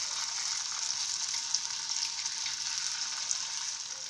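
Homemade carrot and potato kurkure deep-frying in oil, a steady airy bubbling sizzle held evenly throughout, moderately faint and continuous with no speech.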